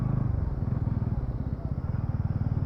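A motorcycle engine hums in a steady, pulsing low rumble while being ridden along a broken mountain road on the way to Tungnath.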